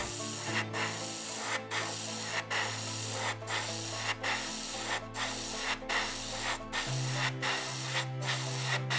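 Close airbrush spraying gloss coat onto a 1/72 Academy F-22A Raptor model kit: a steady broad hiss broken by short regular pauses roughly every second, with a faint low hum underneath.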